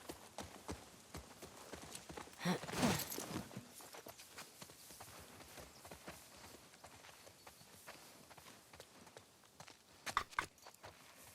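Horse hooves clip-clop in the video game The Last of Us Part II, a steady run of soft hoofbeats with a louder burst near the start and another toward the end, alone without talk.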